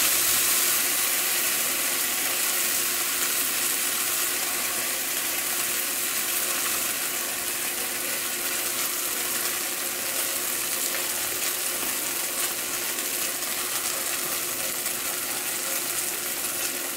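A thin layer of shredded cheddar cheese fries in a pan to form a low-carb taco shell, giving a steady, soft sizzle and crackle that holds evenly throughout without any talk.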